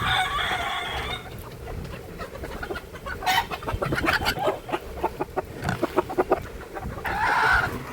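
Country chickens, a few roosters and hens let out of their coops, cluck and peck at food and leaves, with scattered close clucks and calls forming an irregular, busy chatter.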